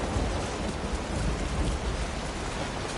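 Heavy rain pours across the landscape in the video game Death Stranding 2, a dense, steady roar of drops hitting surfaces with a low rumble of thunder beneath, loud and unbroken.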